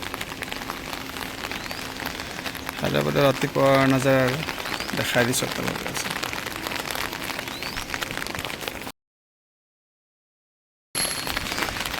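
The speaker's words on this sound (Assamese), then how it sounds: "শুই উঠি আছোঁ বৰষুণ দি আছে আজি গোটেই ৰাতি বৰষুণে দি আছে" Light drizzle that fell all night patters steadily on the roof of an old building in Hyderabad, a soft even hiss running under a person talking, with a brief silent gap near the end.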